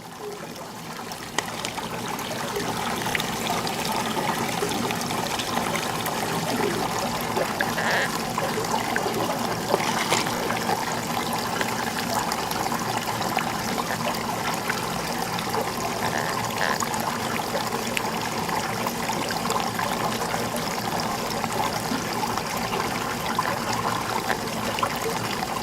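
Steady, continuous trickle of water running through a tabletop placer gold river model, close and even throughout, with faint splashy detail and no talking.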